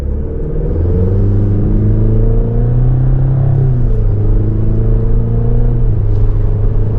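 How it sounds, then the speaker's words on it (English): The 2024 Chevrolet Colorado LT 4x4 pickup with its Turbo Max engine under load gives a loud, continuous low drone that holds steady, rises briefly in pitch, then settles back while the truck drives down the road. "It's a little loud under load."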